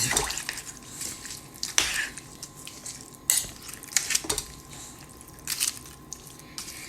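Beef stew with salt being mixed in a slow cooker, a wet squishy stirring punctuated by sharp clinks of a utensil against the pot, close and moderately loud with brief pauses between strokes.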